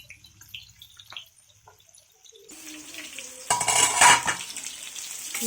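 Tandoori chicken coated in homemade tandoori masala fries in a pan. After a quiet opening, a sizzle rises and swells into loud, crackling frying toward the end.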